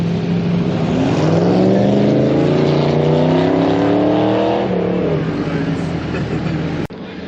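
A third-generation diesel pickup truck fitted with BD 90HP injectors accelerates hard. A loud, close engine note climbs steadily in pitch for several seconds, then levels off and drones on, with a sharp click near the end.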